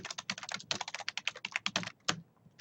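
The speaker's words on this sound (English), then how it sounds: "you'll type your name" Rapid, close clatter of keys on a computer keyboard, a quick run of keystrokes for about two seconds, then a short pause and one last tap.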